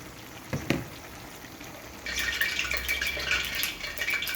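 Chopped onions are tipped into minced meat frying in a pan for karnıyarık. A brief clatter comes first, then a steady, close hiss of sizzling that carries on to the end.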